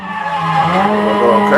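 Cars doing donuts at a car meet give off a loud, sustained tire squeal with a whining engine pitch that rises toward the end, close by.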